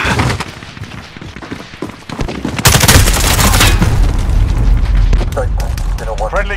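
A sentry gun and other weapons fire in a Call of Duty Modern Warfare multiplayer match, a loud sustained fusillade with booming impacts, while game voice lines call out over the shooting.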